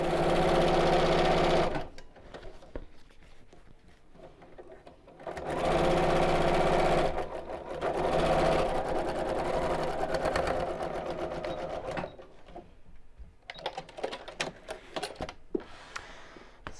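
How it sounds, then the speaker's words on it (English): A sewing machine top stitches a shopping tote in quick rhythmic bursts, loud close runs of rapid clatter broken by short pauses and lighter handling noises. "If you do have a free arm, then now may be a good time to use it"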